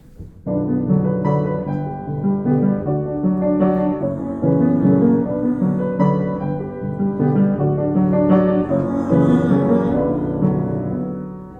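Piano chords move through a slow progression, sustained and full, playing steadily without any voices.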